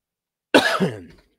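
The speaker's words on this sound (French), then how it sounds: "je vous tousse ça dans les oreilles" A single hoarse cough bursts out close by after silence, rough and throaty, trailing off in about half a second.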